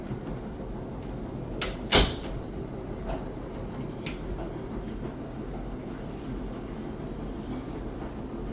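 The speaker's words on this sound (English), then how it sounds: "do you want your MAYTAG dryer to sound like this?" A Maytag clothes dryer screeches and rumbles steadily, a continuous grinding mechanical noise close by, with a sharp knock about two seconds in and no voices.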